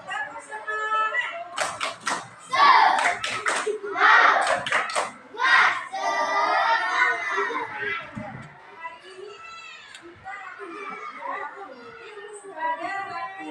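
A fourth-grade class performs a rhythmic spirit-clap chant, bursts of sharp group claps mixed with children's voices calling out, followed by chatter in the classroom.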